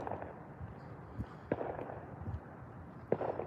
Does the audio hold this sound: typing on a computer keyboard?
no